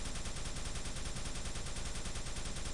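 Rapid gunfire in a video game match on the Gulchrun map, a dense, continuous stream of shots with a steady rattling rhythm, loud and close, with no talk over it.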